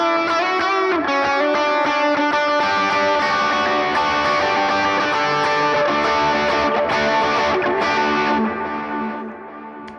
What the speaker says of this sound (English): Other side of the V4 is the Morning Glory. That sounds like this.